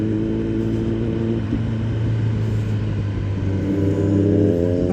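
Yamaha XSR 900 motorcycle engine while riding on a road, a loud, steady droning rumble from close by, holding an even pitch and then rising slightly as the throttle opens near the end.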